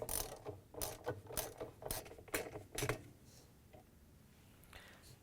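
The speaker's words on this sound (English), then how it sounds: "We're going to use a wrench, a long extension, and a 7/16 inch socket to take it off" A wrench on a long extension with a 7/16 inch socket loosens the agitator coupler bolt in a GE washer, giving several close, sharp ratcheting bursts over about three seconds before quieting down.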